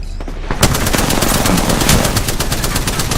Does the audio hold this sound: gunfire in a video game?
yes